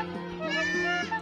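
A goat on a breeding farm bleats in a long, wavering cry close by, with a low steady drone and a voice in the background.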